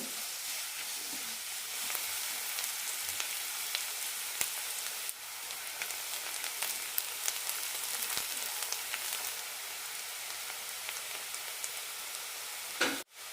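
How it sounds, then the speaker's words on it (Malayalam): Sliced onions sautéing in a pan for a chickpea masala, a steady soft sizzle with faint stirring ticks throughout and a brief louder scrape near the end, no voices. "സവാളയ്ക്ക് ലൈറ്റായിട്ട് ഒരു ഗോൾഡൻ കളർ വരണം അതുവരെ വഴറ്റി കൊടുക്കാം"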